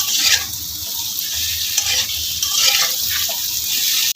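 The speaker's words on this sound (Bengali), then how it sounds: "মিনিট দুয়েক আমি একটু ভাজা করে নেব" Carrot and potato pieces frying with turmeric and salt in a pan, a loud steady sizzle with occasional stirring scrapes, close up.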